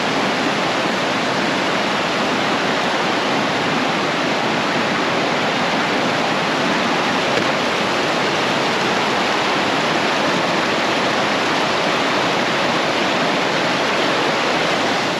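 Continuous broadband rushing of the River Prosen in Scotland, dense and steady throughout, with no voices.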